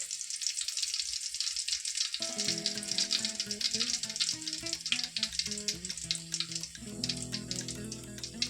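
Soybean chunks with onion and chili sizzle steadily in hot oil in a home kitchen, a continuous close frying hiss with occasional stirring and clinks, no talk.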